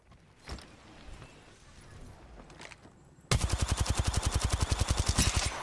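Gunfire in the game Apex Legends, a few scattered shots and then a loud rapid automatic burst of evenly spaced rounds running for over two seconds.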